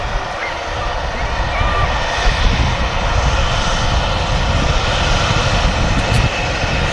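A Jet2 airliner engine roars steadily at Manchester Airport, a loud continuous drone with broad rumble that holds level throughout, with a voice talking over it at times.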